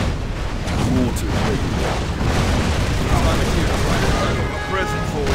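Mortar fire and explosions in the Rise of the Reds strategy game, a loud continuous barrage of booms and blasts with broadband rumble, dense and overlapping, with game voices partly beneath.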